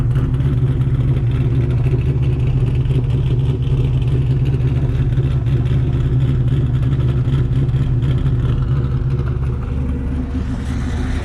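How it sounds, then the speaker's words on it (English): A Trans Am Firebird with a 620 hp LSX 454 swap and 4L80e transmission idles with a loud, steady, deep exhaust rumble and a choppy pulse, nearby and without speech. "I'll go out here and give you a little exhaust note so you can kind of hear what this thing sounds like."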